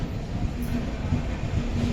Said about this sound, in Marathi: तर आमची ट्रेन इलेली हा